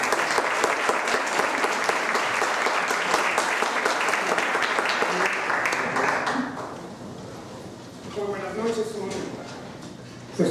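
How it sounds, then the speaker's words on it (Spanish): Strong round of applause from a lecture audience at the opening talk of an art exhibition, loud and dense for about seven seconds before fading into low murmurs and a voice. "Le damos un fuerte aplauso, por favor."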